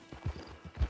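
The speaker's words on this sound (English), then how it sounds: "Get on the horse when you're ready." Horse hooves clip-clop at a walk in Red Dead Redemption 2, a few soft, evenly paced thuds heard up close with no other sounds around them.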